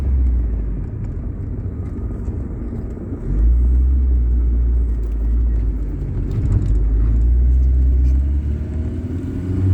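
Tofaş car on the move with about 100,000 km on it, a steady low engine and road rumble filling the interior, growing slightly louder after a few seconds, with no talking.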